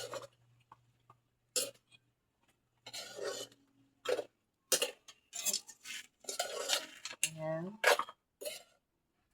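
A utensil stirring and scraping food in a pot over a charcoal stove, producing short intermittent clinks and scrapes separated by pauses, with a person talking between them.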